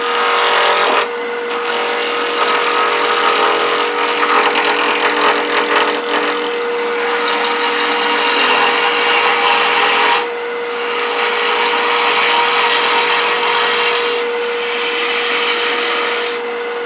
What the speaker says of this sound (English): Turn this thing to high speed. I'm using the bowl gouge.